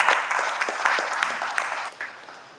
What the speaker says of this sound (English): Give a round of applause to Robert